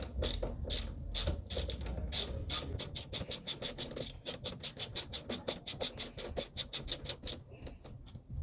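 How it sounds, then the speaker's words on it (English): A loosened bolt is worked out of a Chevy utility's suspension with a ratchet, giving a fast, even run of sharp clicking pawl ticks up close, with a few scrapes at the start and no talking. "We have loosened the bolts. Now we're just taking it all the way out."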